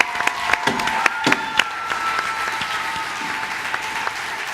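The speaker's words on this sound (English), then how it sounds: "How about a round of applause for all our actors tonight?" Audience applause for the actors at the end of a comedy show, a sustained wash of clapping with sharp individual claps popping out, a steady moderate level throughout with a faint voice briefly under it.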